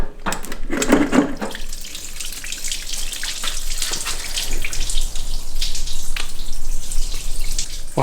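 Coolant pours and splashes steadily onto a garage floor from an engine, a continuous close trickle with occasional drips.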